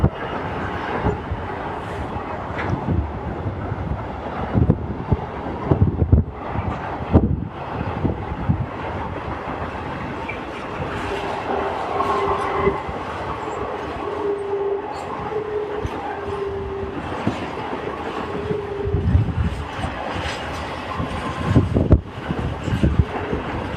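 An EWS Class 66 diesel locomotive hauls a freight train past on the East Coast Main Line at Thirsk, a continuous rumbling roar with rattling wagons and a sustained engine tone, and a dog barks briefly in the background.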